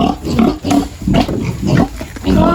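A large pig grunts and squeals repeatedly in loud, rough bursts, close by, with brief pauses between calls.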